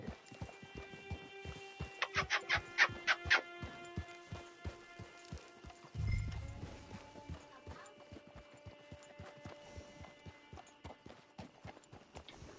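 Steady hoof clops of a walking horse in Red Dead Redemption II, rhythmic and fairly close, with musical chimes early and a low thump midway; no talking.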